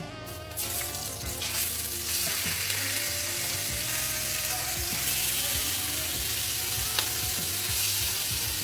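Garlic chicken sizzles in a hot frying pan, a dense, steady hiss and crackle that carries on loud and unbroken, with a few faint clinks of stirring.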